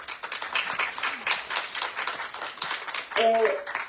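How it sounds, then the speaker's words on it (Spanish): A conference audience claps in scattered, steady applause that carries on throughout. A voice speaks briefly over it near the end. "Un aplauso, por favor."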